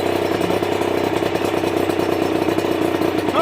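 A small Sherco 50cc motorcycle engine runs close by, a steady buzzing idle with a fast, even two-stroke pulse and a slight rise in pitch near the end.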